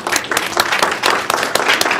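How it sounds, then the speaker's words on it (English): Applause at a borough public meeting in Conshohocken marking Black History Month, a short, loud burst of many people clapping in a room. "We can clap for that."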